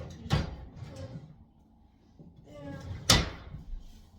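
A dresser drawer thuds twice as laundry is put away, two sharp knocks about three seconds apart with soft rustling and handling sounds between them, close by and indoors.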